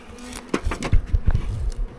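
Honey bees buzz loudly around nucleus colony boxes being unpacked at the start of the 2024 season, a dense close swarm drone with scattered bumps and scrapes of handling.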